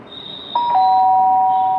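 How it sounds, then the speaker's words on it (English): A doorbell sound from a Scratch program plays a two-note electronic ding-dong, bright tones that start near half a second in and ring on steadily over faint background noise. "so it will ring the doorbell"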